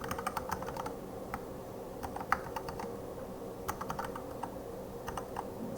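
Rapid, uneven keystrokes on a computer keyboard as code is typed for a brick breaker game, close and fairly quiet, with short bursts and pauses and no talking.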